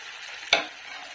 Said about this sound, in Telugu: తర్వాత మనం మిక్స్ చేసుకున్న కాజు టమోటా వేసుకోవాలి.